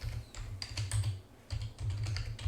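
Rapid typing on a computer keyboard, with bursts of crisp key clicks in an uneven rhythm and a short pause midway, close and fairly quiet, with no talk.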